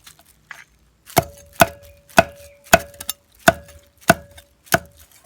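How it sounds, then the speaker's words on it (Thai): Crispy roast pork belly chopped with a heavy cleaver on a wooden board, seven sharp, evenly spaced chops each with a crackling crunch, close and loud with no talking. "เดี๋ยวเราสับกันดูนะครับ"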